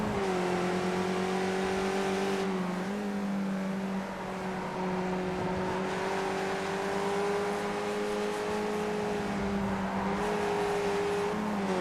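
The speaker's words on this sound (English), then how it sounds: "hear this guy's revving here." A racing car engine in a racing video game holds a steady high drone, revving loud and continuous throughout with slight pitch dips, no voices over it.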